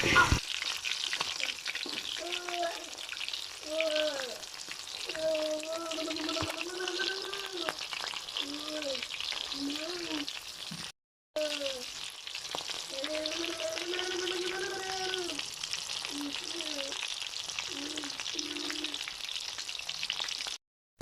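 Shrimp tempura frying in hot oil, turned over partway through, with a steady dense sizzle throughout and a brief break in the middle; a voice talks over it at times.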